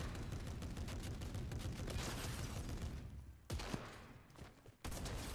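Sustained automatic gunfire aimed at a tank in the game Fortnite, dense and continuous for several seconds, then cutting off briefly and resuming in short bursts.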